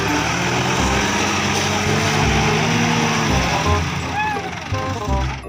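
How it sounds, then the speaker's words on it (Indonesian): A toy tractor's motor runs continuously at close range with a steady buzzing whine, its level barely shifting over several seconds. Faint background sound sits beneath it. "Keren. Selanjutnya ada traktor."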